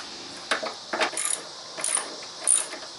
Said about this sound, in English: Now I'm going to remove the battery hold down clamp. You also use the 13mm socket to get that out.